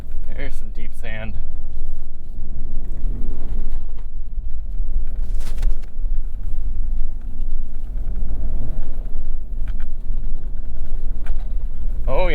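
A 2024 Lexus GX 550 Overtrail+ spins its wheels in deep sand, making a loud, continuous low engine rumble throughout, with people talking over it.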